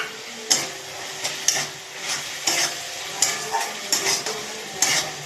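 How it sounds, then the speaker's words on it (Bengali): A spice masala is stirred and fried in oil with green chillies, steady close sizzling broken by repeated scraping strokes of a spoon against the pan. "এবার আমি ভালো করে এটাকে কষিয়ে নেব, যতক্ষণ এটার তেল না ছাড়বে ততক্ষণ এটাকে আমি কষাবো।"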